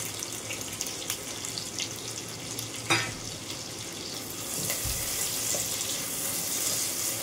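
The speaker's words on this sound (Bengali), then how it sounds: "এবার দেবো ক্যাপসিকাম" Chopped capsicum goes into a hot pan and fries with a steady, moderate sizzle that grows slightly denser toward the end, with a sharp clink of utensil partway through.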